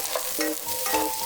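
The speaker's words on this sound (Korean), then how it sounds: "팬이 뜨거워지면 표고와 가지를 넣고 빠르게 볶아주세요" Shiitake mushrooms and eggplant hit hot oil in a pan over high heat and are stirred quickly, a brief close burst of sizzling with light scraping.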